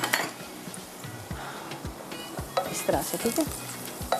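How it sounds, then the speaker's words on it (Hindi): Garlic sizzles in a hot pan with bay leaves and a piece of cinnamon stick, a steady frying hiss broken by clinks and scrapes of a spoon stirring against the metal, with a brief spoken remark over it. "यहाँ पर लहसुन हमारा फ्राई हो रहा है"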